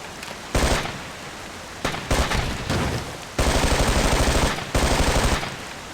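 Loud bursts of automatic rifle fire from the Ghost Recon: Island Thunder video game, several rapid volleys of varying length separated by short pauses.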